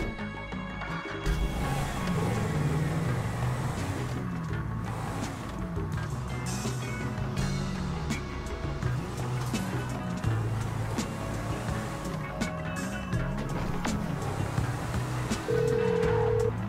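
A car engine in Grand Theft Auto V drones steadily as the vehicle drives, a continuous low hum with road noise and game sounds layered over it.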